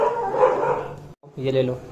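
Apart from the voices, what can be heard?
dogs barking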